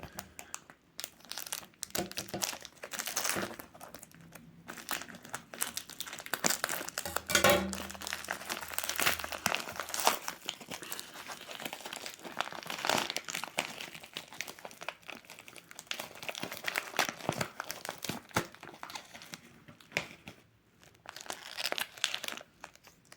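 Tough tape is cut with scissors and a plastic bag holding a cheap Submariner-style homage watch is pulled open, giving close, sustained crinkling and crackling with sharp tearing bursts and snips, no talk.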